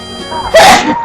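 A single loud, close sneeze bursts out midway through a brief moment, preceded by a quick intake of breath.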